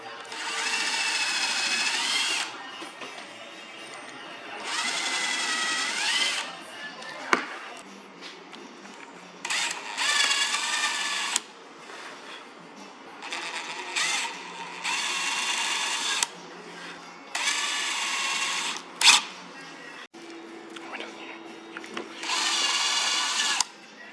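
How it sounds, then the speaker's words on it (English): A power drill whirs in repeated bursts of a few seconds each while drilling neck and tuner holes in a Squier Stratocaster guitar, pitch rising and falling as it bites, with quiet pauses between runs. "my co-worker mark and drill the holes for the neck and the tuners"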